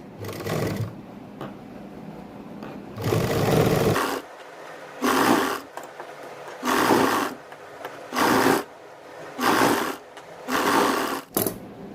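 A sewing machine stitches lace onto sleeve fabric in short loud bursts of about a second each, separated by brief pauses, close up with no talking.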